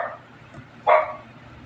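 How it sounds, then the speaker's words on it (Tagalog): A single sharp stray dog bark, fairly close, with a fainter bark or yip just before it over quiet background. "Kasi maingay din yung mga aso."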